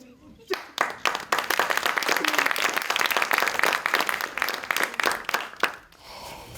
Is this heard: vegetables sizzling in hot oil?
no